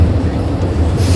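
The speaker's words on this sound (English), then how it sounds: "Alright, so the train's finally stopped. It's so loud." A loud, low rumble of a passenger train on the Da Nang to Dong Hoi line in Vietnam rolls on steadily, a deep droning roar filling the space.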